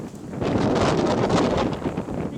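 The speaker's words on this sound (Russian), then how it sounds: "Меня порывом ветра просто сносит с вами." Strong gusty wind outdoors roaring and buffeting the microphone, a loud, dense rushing that swells and holds steadily throughout, with no talking.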